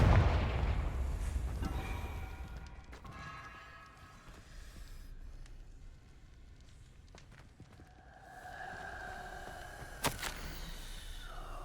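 A Confringo blasting spell is cast in Hogwarts Legacy, giving a burst of fiery crackle and whooshing impact up front, followed by quieter game sounds, footsteps and a sharp hit near the end.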